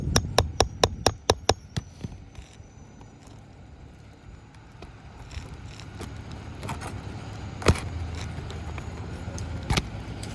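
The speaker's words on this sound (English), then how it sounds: "I'm going to use my hammer to go ahead and" Hammer working roofing nails loose on a roof, a quick run of sharp metallic taps followed by scattered scraping and knocking, with faint traffic in the background.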